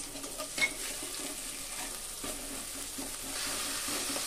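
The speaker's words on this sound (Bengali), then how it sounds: "তো আদা পেঁয়াজ রসুন একটু ভেজে নিলাম।" Ginger, onion and garlic paste frying in a pan while pomfret fish is being cooked, giving a soft continuous sizzle with occasional scraping stirs and light clinks, fairly quiet and close, with no talking.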